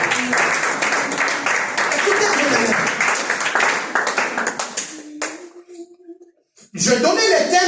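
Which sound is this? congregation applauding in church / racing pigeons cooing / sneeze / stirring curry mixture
congregation applauding in church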